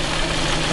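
A steady car engine idling, a continuous low rumble with no change in pitch, close and loud.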